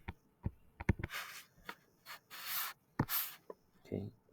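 Pen or pencil writing on paper in short scratchy strokes, a close, quiet series of irregular scribbles and taps with brief pauses between them.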